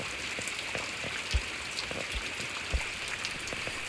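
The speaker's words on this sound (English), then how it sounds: "it was going to pour." Steady rain pours outdoors with a soft continuous hiss and scattered heavier drips landing on a surface, faint and even throughout.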